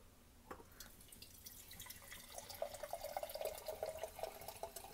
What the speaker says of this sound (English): So we're going to pour this in this.